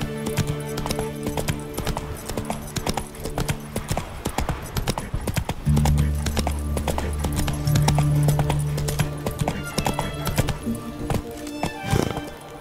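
A horse gallops in The Witcher 3: Wild Hunt, its hooves giving a loud, steady clip-clop under game music, with a brief whinny near the end and no talking.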